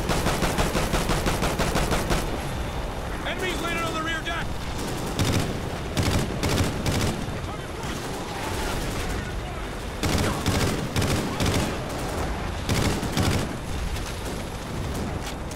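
Gunfire in the shooter Call of Duty: Ghosts, heard as dense bursts of rapid automatic shots that start and stop over and over. Fainter background battle noise runs between the bursts, and a player may be talking over it.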